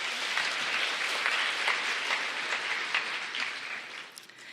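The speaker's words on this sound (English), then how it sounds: "Let's have a round of applause for Chris Pugh." Audience applause for a beauty pageant contestant, a steady, dense wash of clapping that holds for several seconds and then thins toward the end.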